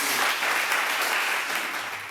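A crowd claps steadily and loudly throughout, a dense, even wash of applause.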